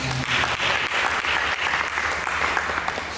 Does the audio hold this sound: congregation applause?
yes